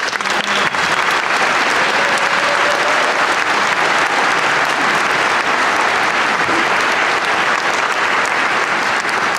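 A youth honor orchestra concert audience claps steadily and loudly, a dense, continuous wash of applause from a full hall with no voices standing out, lasting throughout.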